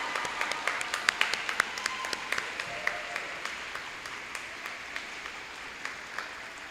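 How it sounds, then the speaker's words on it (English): Applause for a graduating middle school class at a promotion ceremony, a steady wash of many hands clapping with a few sharp individual claps standing out, moderately distant and fairly quiet. "Let's give all of our scholars a big round of applause."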